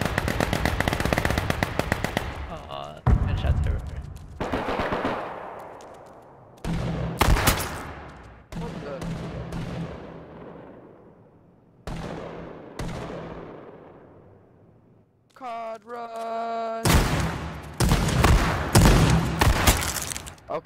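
Shotgun blasts in the video game H1Z1, a series of loud, sharp booming shots in bursts, several close together with brief gaps between volleys, heard alone without voices.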